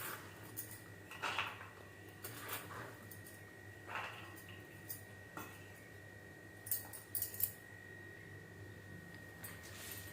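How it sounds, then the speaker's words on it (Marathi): A knife finely chopping taro leaves on a board, sparse sharp taps and knocks spaced irregularly over a faint steady background hum, fairly quiet and close. "आता आपण पानं बारीक चिरून घेऊया"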